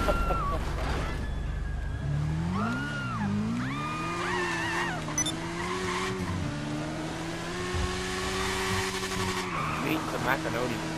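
A car in GTA Online drives and skids, its engine tone rising and falling under loud, sustained tire squeal that lasts for many seconds, with a player talking over the action.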